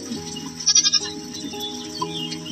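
Two goat kids bleat in a quick, wavering series of short cries, fairly close, over a steady background hum.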